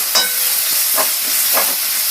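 Garlic sautéing in a pan while making a veg club sandwich filling gives a steady bright sizzle, broken by three soft scraping stirs of a spoon, close and without voices.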